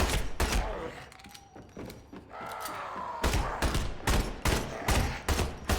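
Gunfire aimed at a Deadite in Evil Dead The Game, a rapid series of loud, close shots in irregular bursts, with mechanical clanks and brief whooshes between them.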